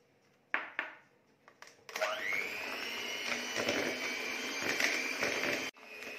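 Electric hand mixer beating butter and sugar for a tea cake batter, starting after a few short clinks and then running as a steady, loud whirring drone for several seconds before cutting off.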